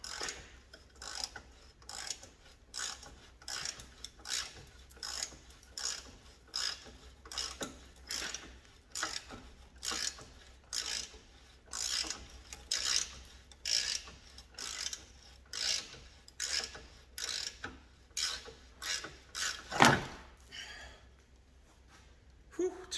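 A hand ratchet clicks in repeated bursts while undoing tight, slightly rotten bolts on an Alfa 145, close and fairly quiet, with brief pauses between strokes.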